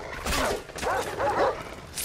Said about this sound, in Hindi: कुत्ते फिर.